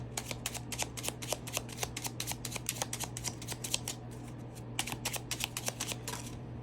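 Tarot cards are shuffled close up in a crisp, repeated riffling rhythm of quick papery flutters and snaps over a low steady hum, continuing for several seconds without talk.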